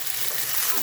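Chicken hitting a hot frying pan, a short dense hiss of sizzling oil, loud and close, with no talking.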